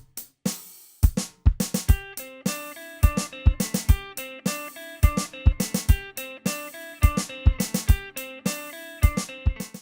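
A seven-note riff looped as straight eighth notes in 7/8 time, played as a steady stream of bright, plucked-sounding notes with sharp attacks and a recurring accent pattern, loud and alone without talk.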